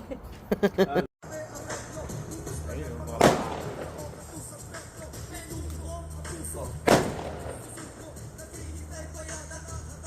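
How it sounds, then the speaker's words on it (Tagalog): Two sharp, loud New Year fireworks bangs go off several seconds apart, each with a brief echoing tail, over a low background hum and faint activity. "Pahabol na fireworks."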